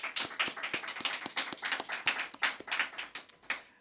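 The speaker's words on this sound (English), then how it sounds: "Let's give him another round of applause." Audience applause for a guest speaker at a staff awards ceremony, a fairly close run of distinct, rhythmic hand claps that holds steady for about four seconds and then fades, with no talking.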